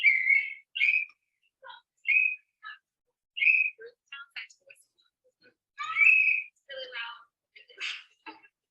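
Sharp, shrill blasts from a whistle blown by a child at a group activity, about a dozen short bursts of uneven length and spacing, loud and near against an otherwise quiet room.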